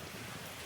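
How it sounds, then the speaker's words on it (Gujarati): Rain falling over a village farm field, a dense, even hiss of drops heard briefly and softly, with no voices. "વરસાદ આવી ગયો ત્યારે ખુશ થઈ ગયા"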